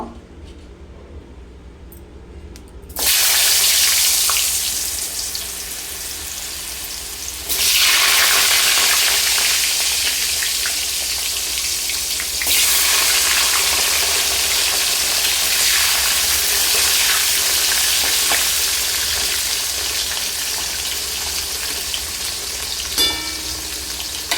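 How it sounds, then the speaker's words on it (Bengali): Potatoes frying in leftover fish oil in a home kitchen: a loud continuous hiss and sizzle that surges abruptly twice as the pieces go in, steady and close for the rest with no talk. "এই মাছের তেলেই আমি এখন আলু আর ফুলকপি ভেজে নেব প্রথমে আলুগুলো লাল লাল করে একটু ভেজে তুলে নিব"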